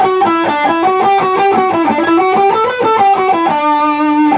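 Electric guitar with distortion runs through combined alternate-picking sequences in a steady, rapid run of evenly spaced notes that stays loud and close throughout, with no talking.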